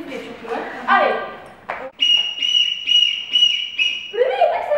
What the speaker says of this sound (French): comme l'entraînement, Caro, à fond, au rythme des sifflets surtout.